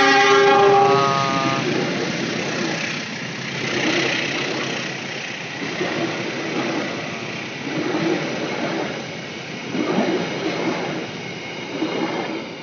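A train horn sounds at the start, then a train rumbles past with steady rhythmic clatter of wheels on track, loud and close, fading slightly, near a fire in the Bukit Pasir Ipis area.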